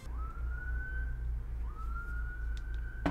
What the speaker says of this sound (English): There's more sirens.